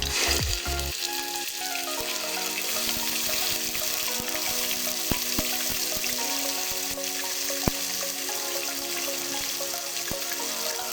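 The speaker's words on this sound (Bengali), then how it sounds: "এখন দিয়ে দেব আদা রসুনের পেস্ট" Ginger garlic paste frying in a hot pan for Arabian kabsa chicken, a dense even sizzle with a louder burst at the start as the paste goes in, then faint stirring ticks, no voices.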